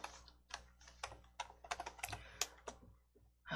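Typing on a computer keyboard during a coding lesson, with a quick, close run of crisp key clicks in uneven bursts, fairly quiet and with no voice over it.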